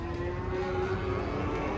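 Large cattle lowing in a sustained, steady moo during unloading from a truck for a Qurban sale at a livestock market, close and fairly loud over a constant rumbling background.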